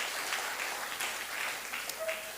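Steady applause from a crowd, a dense wash of clapping that holds evenly throughout without pauses.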